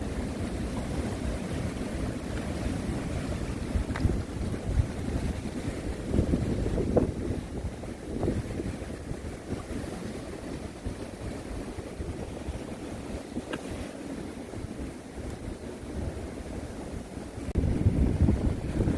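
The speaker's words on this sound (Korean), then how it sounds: "밀려온 파도도, 예, 거품을 일으키면서, 예, 부서지고 있습니다" Sea waves surge in and break into foam along a rocky shore beside a harbour, a continuous rushing roar mixed with heavy wind buffeting the microphone, swelling louder near the end.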